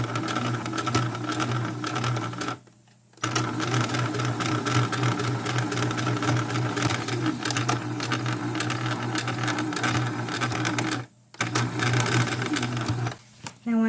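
A sewing machine runs close up, stitching a corset fabric seam with a fast, steady mechanical whir and needle chatter, stopping briefly twice before starting again.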